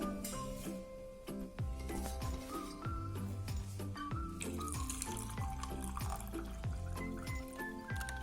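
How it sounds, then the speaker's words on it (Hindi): Water pours into a glass of ice for a Summer mango drink, aam panna, with a steady running flow under prominent background music. "अब हम इसमें डालेंगे पानी"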